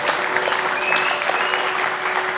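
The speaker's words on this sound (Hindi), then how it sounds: "सागर के लिए पूरी क्रू, प्रोडक्शन, सब लोग ताली बजाइए एक बार जितने भी बैठे हैं।" Crew, production staff and everyone seated on the set of India's Biggest Foodie, a cooking competition show, applaud for contestant Sagar: steady, dense clapping from a sizeable group, close and sustained throughout without pause.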